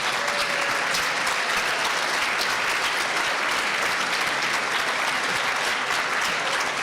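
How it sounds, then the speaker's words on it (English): Sustained, loud applause from a large gala audience, an even roar of many hands clapping without pause from start to finish. "Round of applause."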